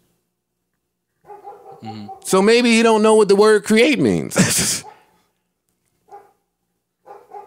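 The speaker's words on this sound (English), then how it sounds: "Dog just won't shut the fuck up." A dog barks loudly in a few sharp bursts in the middle, mixed with and followed by close conversational talk on a podcast, with quieter voices before and after.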